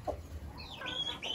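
A black hen clucks softly in short, faint calls over a low background hum, a few quiet rising notes in quick succession.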